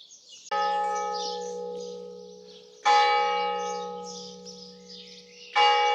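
A church bell in San Fulgencio on Spain's Costa Blanca strikes three times, slow and evenly spaced, each loud clang ringing out into a long, shimmering decay with no talking.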